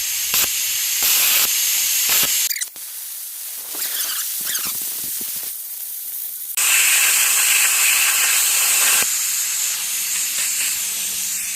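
Loud, steady hissing roar of an ARCCAPTAIN Cut55 Pro plasma cutter cutting metal, starting and stopping in bursts with brief quieter gaps between.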